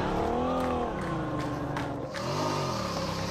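Motorcycle engine in the mobile battle royale game PUBG Mobile, heard as a loud, steady buzzing drone with rising and falling pitch sweeps across about three seconds, briefly dipping near the end, with no talk over it.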